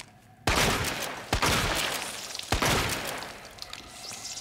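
Shotgun blasts in the Resident Evil 2 Remake video game: two loud booming shots about a second apart, each followed by a decaying echo and lingering game ambience, with no talking.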